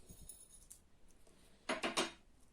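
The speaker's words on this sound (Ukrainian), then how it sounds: "Добавляємо сюди перець горошком" Black peppercorns are dropped into a pot of mushrooms covered with water, making a short cluster of bright, close clicks and rattles against the pot.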